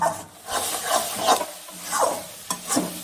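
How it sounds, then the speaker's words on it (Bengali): Shidol shutki, a dried fish paste, stir-fried in a pan with a steady sizzle and repeated scraping strokes of a spatula, close and fairly loud, with no voices. "এবার ভালো করে এটা কষিয়ে নিতে হবে।"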